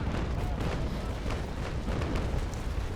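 Ship cannons fire in a naval battle in the game Naval Action Legends, a continuous heavy roar of booming broadside shots blending together, loud and dense.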